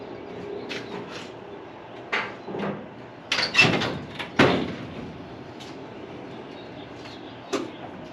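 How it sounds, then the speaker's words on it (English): The door of a 1955 Chevy 3100 Big Window pickup truck being opened: a few scattered clunks and creaks, then a sharper metallic knock and latch sound midway, with one more faint knock near the end. "But I'll get the other door open and then I'll bring you in there."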